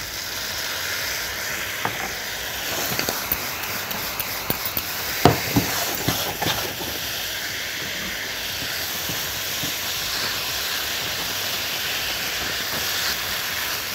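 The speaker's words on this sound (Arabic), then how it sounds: "هننزل اخر حاجه الليمون على الجمبري." Shrimp cook in a hot pan with lemon added near the end, giving a loud, steady sizzle and hiss throughout. A few sharp clinks and taps stand out in the middle of the frying.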